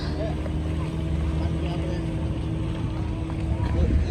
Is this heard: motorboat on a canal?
yes